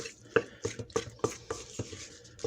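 A spoon stirs deviled egg filling of mashed yolk with paprika, salt and pepper in a bowl, giving a steady series of soft, close scraping taps about every third of a second, with no talking.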